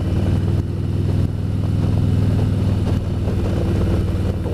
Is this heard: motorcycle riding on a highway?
yes